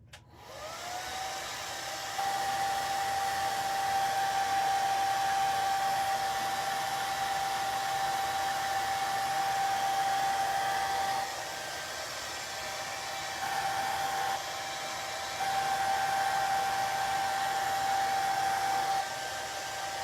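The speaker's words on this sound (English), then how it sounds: "then I'll dry it again with the blow dryer" A blow dryer runs steadily while drying a chalk craft project, a continuous whirring hum with a thin whine, shifting slightly in level as it is moved, with no talking.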